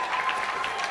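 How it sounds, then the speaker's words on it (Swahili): Applause from an audience in a hall at a World Press Freedom Day event, a dense, even wash of many hands clapping at full strength with a faint crowd murmur. "Makofi mengi."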